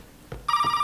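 A telephone in the survival horror video game Resident Evil 7 starts ringing, a bright electronic bell tone after a couple of soft thumps, loud and close.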